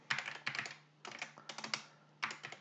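Rapid keystrokes on a computer keyboard, close and clear, arriving in four quick bursts of clicks separated by short pauses, with no voices.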